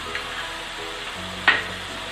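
Masala paste with asafoetida, red chili powder and fennel powder fries in a pan for a radish fish curry, giving a soft steady sizzle with one brief louder crackle near the end.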